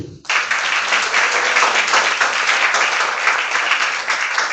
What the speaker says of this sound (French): Luc, est-ce qu'on peut applaudir pour lui?